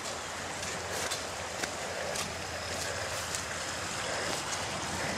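A rain-swollen creek flows steadily, a constant broadband rush of water heard close and moderately loud, with no voices.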